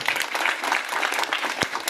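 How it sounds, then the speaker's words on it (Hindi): An audience at a gathering breaks into a loud, dense round of applause, continuous overlapping clapping close by with a single sharper knock near the end. "इन सब के लिए एक बार जोरदार ताली होना चाहिए"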